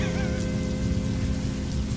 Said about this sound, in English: baby fists of rain just pounding on my windshield